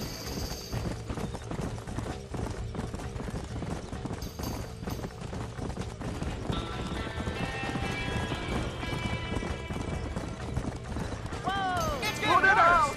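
Horses at a burning barn in Red Dead Redemption: rapid clip-clopping hooves and shuffling over a busy low rumble, with frightened neighs and whinnies rising near the end. Shouting voices are mixed in.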